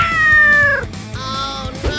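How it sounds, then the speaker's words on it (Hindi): A cat lets out a loud, drawn-out meow up close, then a second, shorter and quieter meow follows with no talking over it. "पकड़ो इस बिल्ली को"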